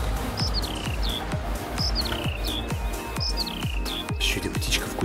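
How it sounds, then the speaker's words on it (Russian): Repeated high chirping bird calls ring out over a steady rhythmic thumping in a Farming Simulator 19 countryside scene, the bird hidden in bushes, several calls in a row fairly close and clear. "Еще где птичка в кустах."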